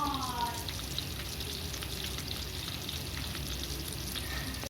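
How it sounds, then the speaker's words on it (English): Balls fry in a pan in a home kitchen, a constant close hissing sizzle with light crackles that stays steady from start to finish. "Daddy's cooking the balls."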